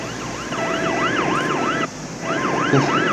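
A wailing police car siren in the video game Car Parking Multiplayer sweeps up and down repeatedly over a steady engine hum, dropping out briefly before resuming its rising and falling cycle.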